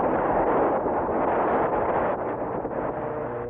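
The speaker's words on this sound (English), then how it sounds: "they had observed what appeared to be an atomic explosion" Cartoon atomic explosion sound effect, a loud, sustained rumbling roar with a muffled, band-limited old-film quality, steady for several seconds before easing slightly.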